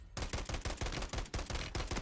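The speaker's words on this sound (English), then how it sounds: "I'm gonna shoot this guy there." Rapid bursts of automatic gunfire in Call of Duty Warzone, a steady stream of sharp, loud shots repeating several times a second and filling the clip alone.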